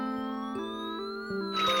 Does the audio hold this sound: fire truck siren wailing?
yes